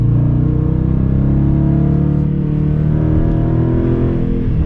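A 2018 Dodge Challenger R/T Plus with active exhaust rumbles loudly up close, its deep engine note swelling and easing as it revs steadily with no talk.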